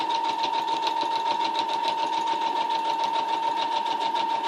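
A sewing machine stitches fabric for a pocket bow, its needle hammering in a fast, steady, even rhythm with a constant motor whine, close and loud, running alone without pauses.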